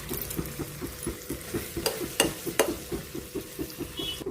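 Curry leaves frying in oil with turmeric, with a steady crackling sizzle under quick rhythmic stirring taps and a few sharper spits, close up and without speech.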